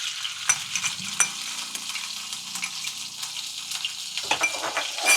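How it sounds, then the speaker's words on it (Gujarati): Ginger-chili paste hits hot oil with cumin for a green turmeric curry, giving a steady, fairly loud sizzle. Scraping stirs and light spoon taps against the pan run through it from start to finish. "પછી આદુ મરચાંની પેસ્ટ હતી નાખી દેવાની તેલમાં."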